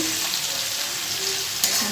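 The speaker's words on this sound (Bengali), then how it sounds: "পেঁয়াজটা হালকা ভেজে নিচ্ছি, গোটা গরম মশলা তেলে দিয়ে দিয়েছি" Onion frying in oil with whole garam masala makes a brief, even, close sizzle that holds steady throughout, with a light clink near the end.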